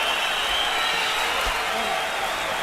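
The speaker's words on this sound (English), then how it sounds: "Crowd liked it." Boxing arena crowd at a bout between Danny Garcia and Erik Morales cheering and applauding at the end of a round, a dense, steady roar of clapping and voices filling the whole stretch without pause.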